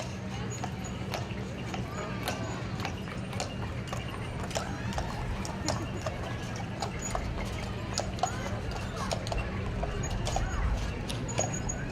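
Horses and ponies from a pony ride and horse company clip-clop along a county fair parade route in Chase County, Nebraska, steady overlapping hoofbeats continuing throughout amid crowd noise and a background announcer's voice.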